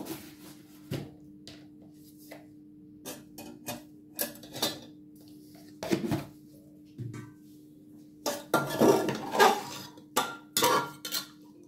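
Mushroom corn soup with peas being stirred in a pot, a spoon clinking and scraping against the metal in irregular bursts, some rapid and clustered, with quiet gaps between and a steady low hum underneath.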